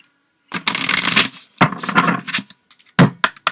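Tarot cards shuffled by hand in bursts, a long riffle followed by two shorter ones and a few quick taps, close and fairly loud, with no talking.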